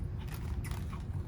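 Dry hide glue crunching between teeth as it is bitten and chewed, a close, steady gritty crackle over about a second and a half with no talking.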